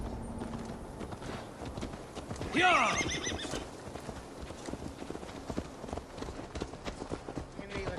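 Hooves clip-clop steadily while a horse gives one loud whinny in the video game Assassin's Creed Valhalla; a voice briefly shouts, and the scene has a game-like ambience.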